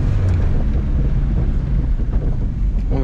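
A 1977 VW Passat TS engine drones loudly and continuously from inside the car, low and rough with a rattling, wind-like rush over it.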